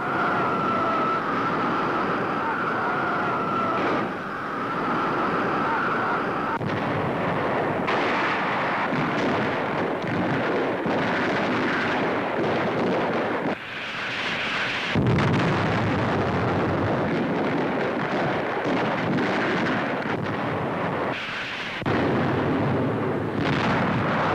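Hand grenades burst against pillboxes during WWII combat in the South Pacific, heard as a continuous, heavy rumble of blasts and battle noise with no voices.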